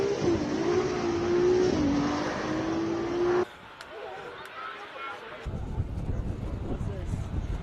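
A Ferrari 296 GTB race car launches up the hill at a Cape Town hill-climb event, its engine revving and rising in pitch before cutting away to quieter crowd and ambient sound.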